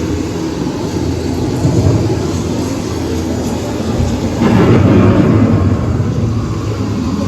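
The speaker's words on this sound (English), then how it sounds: "The approaching storm may seem violent and destructive to us" Thunderstorm effect on EPCOT's Living with the Land boat ride: a low, steady rumbling roar that swells into a heavier rolling surge midway through, loud and continuous with no talk over it.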